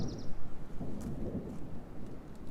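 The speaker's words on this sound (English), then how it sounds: "Thunderstorms rolling in." Thunder from an approaching storm rumbles low and continuous in the Grayson Highlands of Virginia, a soft, distant roll with a steady wash of background noise and no talking.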